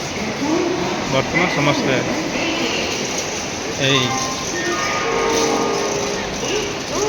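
Busy Howrah railway station in India, with a rumbling hum of trains and crowd ambience under a person speaking close by.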